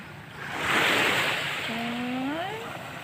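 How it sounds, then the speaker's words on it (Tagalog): Waves washing onto a hot beach with a rising surge and steady wind noise, followed by a faint whistling tone. "nandito tayo sa dagat"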